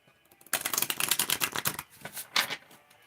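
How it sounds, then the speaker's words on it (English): Herbal astrology oracle cards are shuffled in quick, crisp riffling bursts that start abruptly after a short quiet lead-in, rattling close and loud before tapering into a few separate flicks. "We'll do one more shuffle."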